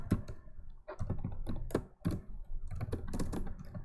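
Quiet, close computer keyboard typing while writing code, keys clattering in short irregular bursts with brief pauses between them.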